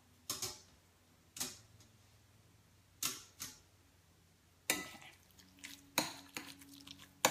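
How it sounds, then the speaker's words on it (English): A mixing spoon stirs salsa in a bowl, giving sharp, irregular clinks and taps against the bowl, spaced apart at first, then coming in quicker clusters toward the end, close and fairly quiet. "I'm just going to mix this all together with a nice mixing spoon."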